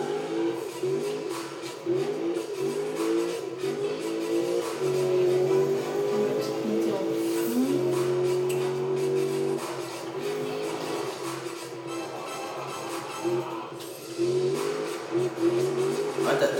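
Engine revving from a car drifting in a Need for Speed video game: a sustained, rising and falling engine whine with gear-like pitch sweeps, running continuously alongside occasional talk.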